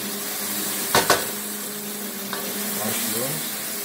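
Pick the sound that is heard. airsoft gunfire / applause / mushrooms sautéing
mushrooms sautéing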